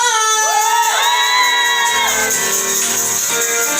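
Children at a fifth birthday party with a Jollibee mascot yell and cheer together as a loud, continuous crowd, with rising whoops and shouts. Clapping is not clearly separable in the din.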